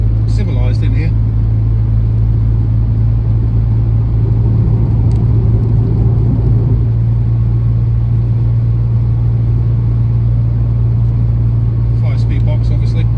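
1989 Toyota Celica GT-Four ST185 rally car with a very large exhaust, heard from inside while driving: a constant deep, loud engine and exhaust drone, with someone talking over it.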